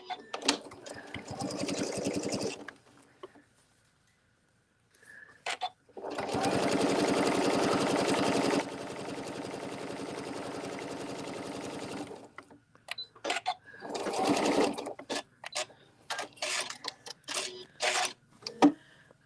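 A sewing machine stitches a quilt-as-you-go placemat in close, loud bursts of rapid mechanical whirring, one of them long and sustained, with short pauses and a few clicks between runs.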